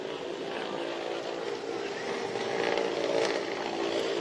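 A Ghana Armed Forces military helicopter flies during an Independence Day military display, its dense, steady rotor and engine drone swelling slightly louder toward the end.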